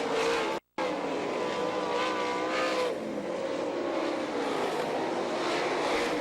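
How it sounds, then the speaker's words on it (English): Sprint race cars roar around a dirt oval at an All Star Circuit of Champions event in Butler, Michigan, engines howling loudly and continuously with pitch rising and falling as cars sweep past, one brief dropout near the start. "Jeff Shepard keeps pouring the coal to that 92"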